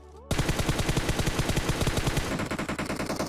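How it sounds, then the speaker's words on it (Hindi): Rapid bursts of automatic gunfire in a video game rattle loudly and continuously, a dense machine-gun stream with slight changes in rhythm toward the end. "ओ भाई किसको गोली चला रहा है"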